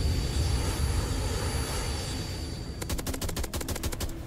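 Rapid gunfire in a SpongeBob video game, a quick burst of sharp repeated shots following a dense rushing game noise, close and loud with no talk.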